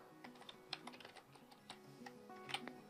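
Soft, irregular keystrokes on a computer keyboard while writing HTML, scattered clicks at a moderate distance over a quiet background, with no voices.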